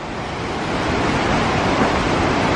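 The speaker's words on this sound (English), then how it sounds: "There's a lot of water coming down those falls." A big waterfall with a heavy volume of water pouring down, heard as a steady, loud, broadband roar without pause or voices.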